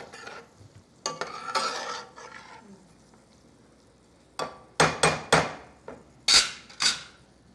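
A utensil stirs food in a pan, then white wine is added; scraping strokes come in two rough bursts, then five sharp, close, loud swishes in steady rhythm, with a faint sizzle beneath.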